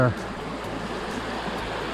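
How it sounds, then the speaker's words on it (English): Fast-moving water of the Pretty River, a wide stream beside a Blue Mountains hiking trail, rushes in a steady, close broadband wash with a low rumble underneath and no break. "The water movement on the Pretty River is getting faster and faster here."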